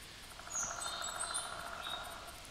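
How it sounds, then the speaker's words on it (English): High, thin chirping calls from a bird in The Hunter hunting game, a few faint repeated tweets over a steady outdoor ambience of insect-like buzzing, with no one talking. "I'm pretty sure I hear a bird."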